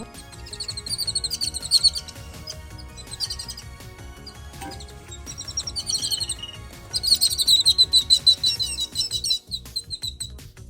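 Small birds chirp in quick, bright bursts around a house, twittering in clusters with short pauses between, close by over a quiet indoor background.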